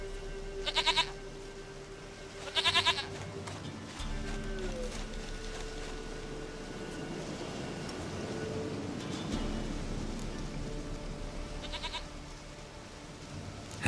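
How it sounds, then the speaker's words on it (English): Goat bleating in The Witcher 3 video game, two short wavering bleats early on over a low game ambience and humming drone, with a faint third call near the end. "goat of mine! Dearest, sweetest goat!"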